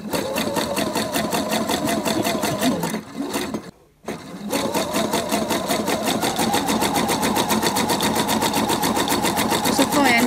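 A domestic sewing machine stitches a dense, closed edge seam with short, tightly packed stitches. It gives a steady, fast mechanical whirring that stops briefly around the middle and then resumes at a constant pace.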